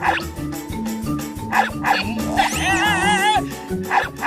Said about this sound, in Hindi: अब जॉन को जंगली कुत्ते काटेंगे